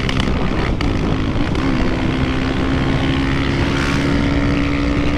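Remapped 2024 Yamaha FZ 25 motorcycle at top speed, its engine holding a steady high-pitched drone with heavy wind roar, loud and continuous throughout.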